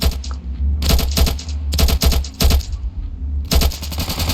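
Gunfire in the video game Ravenfield, loud bursts of rapid automatic shots in several clusters separated by short pauses, close and punchy.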